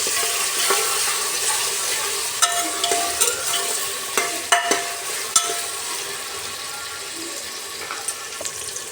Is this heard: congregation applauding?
no